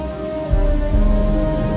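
Steady rain falls in the video game Gothic II with the Archolos mod, a constant hissing wash of drops at moderate loudness with no talk.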